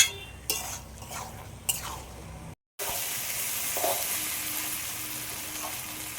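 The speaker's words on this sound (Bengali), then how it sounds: "সিদ্ধ করে রাখা ডালটাও দিয়ে দেব সব একসাথে আর একটু ভালো করে কষে নেব" Boiled dal and meat frying together for ghugni, stirred in a pan with a constant sizzle, occasional spoon clinks and scrapes against the metal, a brief dropout midway, then steady frying close up without speech.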